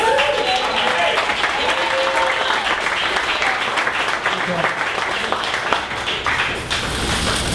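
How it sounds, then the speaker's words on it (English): An audience at a Dallas startup pitch event gives a big, sustained round of applause to welcome a presenter onto the stage, dense and loud throughout with voices mixed in. "every time we welcome someone onto stage, we stand up and have a huge round of applause"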